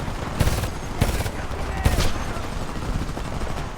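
Gunfire in the video game Homefront, several sharp broadband bursts over a dense rumbling battle bed, with shouted voices in the mix.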